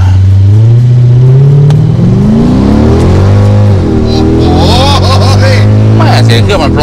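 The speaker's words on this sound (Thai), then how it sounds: "เสียงเครื่องมันเพราะจริงๆนะ" A 2008 Mercedes-AMG C63 V8 accelerating hard from a standstill toward 100 km/h, heard from inside the car: a loud, deep engine note climbing in pitch through several gear changes, with voices briefly over it near the end.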